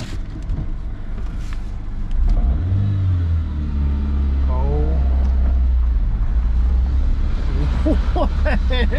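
A Honda Civic RT4WD wagon drives with a loud, rumbling engine that climbs in pitch as the throttle opens, steady and close throughout, with voices or laughter faintly mixed in.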